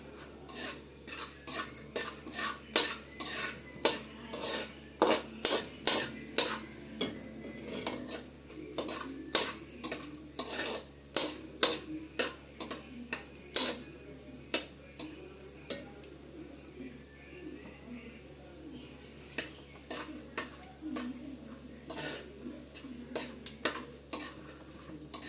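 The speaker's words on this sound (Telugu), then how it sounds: "ఇప్పుడు జీడిపప్పు కూడా వేగింది" Cashews frying in ghee, stirred with a metal spoon that clinks and scrapes against the pan in a steady irregular rhythm over a soft, continuous sizzle, close and clear.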